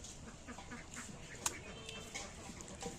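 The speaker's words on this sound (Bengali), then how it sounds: "আমার হাঁসগুলো" Farm ducks quack faintly at a distance, with scattered soft calls over a low background hiss and a single sharp click near the middle.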